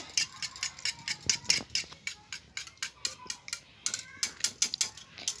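Eggs with a little salt whisked briskly in a bowl, a steady run of quick rhythmic clicking strokes, close and fairly loud, with no talking.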